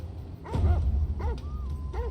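A hunting dog in the video game Crusader Kings III barks and yips in a few sharp bursts, fairly close, over a low rumbling background.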